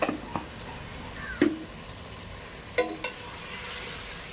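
Dhaba-style mutton bhuna cooks in a pan with salt just added, giving a soft, steady background sizzle broken by a few brief scraping stirs and clinks of a spoon against the pan.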